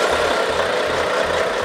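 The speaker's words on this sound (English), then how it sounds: "Behind the windows, the engine springs into life for its first time." A new Volvo truck diesel engine fires up for the first time on a factory test stand, producing a steady, loud, dense mechanical roar with a low rhythmic pulsing throughout.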